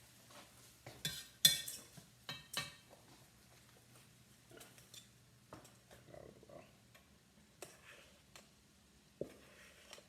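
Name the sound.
stirring rice in a pot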